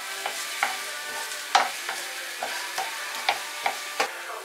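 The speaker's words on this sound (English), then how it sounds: "Give it a good stir and fry for, I would say, maybe 5 minutes until translucent and soft." Onions frying in a pan for a punk-themed kitchen's meat and cheese pastry, with a continuous soft sizzle and regular spoon stirs knocking about every half second, close and without talk.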